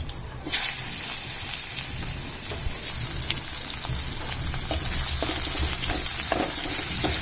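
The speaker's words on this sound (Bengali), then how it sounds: "পেঁয়াজটা লাল করে ভাজবো" Sliced onion drops into hot mustard oil, left over from frying fish, with a dried chilli and black cumin. A loud, steady sizzle bursts in at once and keeps going, with occasional stirring clicks and no talk.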